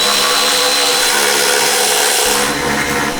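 A power tool grinds and whirs continuously and loudly at close range while working on the exhaust parts of a 2020 Duramax truck, the pitch shifting slightly near the end.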